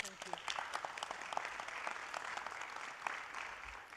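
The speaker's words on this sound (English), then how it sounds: "Let's give her a round of applause." Applause from the audience at a Los Angeles County Board of Supervisors meeting, a thin, fairly faint patter of clapping with scattered sharper claps, heard alongside some speech.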